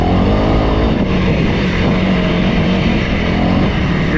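A Honda CRF300L dual sport motorcycle on dual sport tires runs under way on a British Columbia ride, its engine a loud, steady, close droning roar that holds for the whole stretch.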